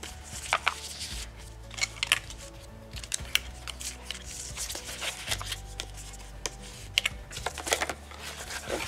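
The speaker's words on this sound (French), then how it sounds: "Ensuite, nous allons former tous les plis" Scrapbooking paper being creased into folds for an octagonal display box, giving irregular crisp taps, rustles and scrapes close by with short pauses between.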